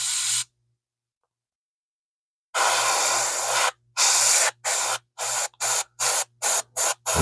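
Airbrush or spray can laying an ochre brown, black and sky gray base coat on a Blade Runner scale model building and its surrounding dirt: one long hiss, a pause, then a string of short bursts growing quicker.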